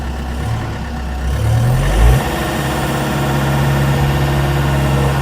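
A Mecalac 8MCR excavator's diesel engine idles steadily with auto idle on, briefly revving up before settling back into a low, even rumble close by.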